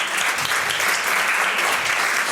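A seminar audience applauds panel speakers from a school as they are introduced, with steady, dense clapping filling the room throughout.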